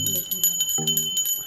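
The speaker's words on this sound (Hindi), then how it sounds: "जल घंटी बजा बेटी" A small hand bell rings in quick, repeated bright strikes during a Hindu puja ritual at home, the ringing continuing under a person's voice.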